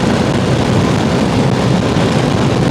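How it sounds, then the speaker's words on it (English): A Honda CRF300L Rally motorcycle engine at full throttle on a hilly road, a loud, steady droning roar mixed with heavy wind rush, continuous throughout. "I'm full throttle right now."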